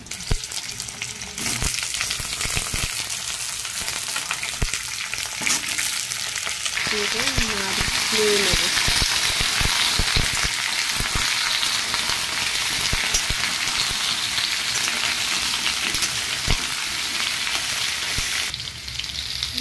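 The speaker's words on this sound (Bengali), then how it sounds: "লাল লাল করে আলু ভাজা হয়ে গেছে।" Potatoes fry in hot oil with a loud, steady close-up sizzle and hiss, broken by scraping stirs and clatters from a utensil; someone speaks briefly in the middle.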